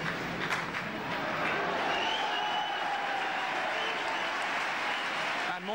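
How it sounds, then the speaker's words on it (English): Spectators at a 1989 India versus Pakistan Champions Trophy match in Sharjah keep up sustained applause around the cricket ground, a broad, even roar of distant clapping and crowd noise, with a voice faintly audible beneath. "And more applause."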